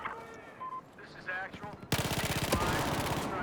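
A PDW fires in a video game, a rapid rhythmic burst of closely spaced shots that starts abruptly partway through and runs loud to the end, after quieter game sounds and a brief voice.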